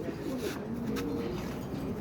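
A racing pigeon coos in a low, throaty rolling call, steady and close over a faint background hum, with no talk.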